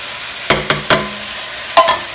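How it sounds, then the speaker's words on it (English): Chopped onion and mushrooms dropped into a pan of browning meat for lasagna, giving a few sharp, close clatters and hisses in quick succession, then another after a pause, with no talking. "so this meat is getting pretty brown, so I'm going to add my onion. And I'm also going to add my mushrooms"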